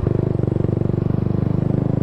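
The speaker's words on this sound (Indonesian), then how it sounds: "mengetes knalpot Satria FU CKD yang udah dibobok" A Suzuki Satria FU CKD motorcycle with a bored-out exhaust idles close by, its engine giving a steady, rapid low pulsing throb that stays even and unbroken throughout, with no voices.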